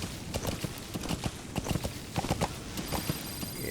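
Horse hooves in Metal Gear Solid V clip-clop in a quick, uneven rhythm of close, distinct strikes, walking steadily for a few seconds with no voices.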